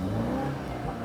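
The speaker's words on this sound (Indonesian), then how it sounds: "Ini suara knalpotnya beda." A BMW G20 330i exhaust in Sport Plus mode gives a short, steady, close-up engine drone with a faint rumbling edge and no talking.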